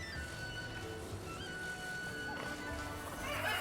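A horse in the video game Zelda: Tears of the Kingdom, near Kakariko Village, neighs while hooves clip-clop steadily, layered over soft background game music.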